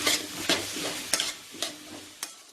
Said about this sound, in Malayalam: മഞ്ഞപ്പൊടി എല്ലാം ചേർത്തിട്ട് നമ്മളൊന്ന് മിക്സ് ആക്കണം.